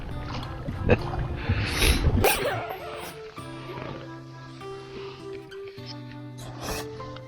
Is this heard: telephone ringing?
no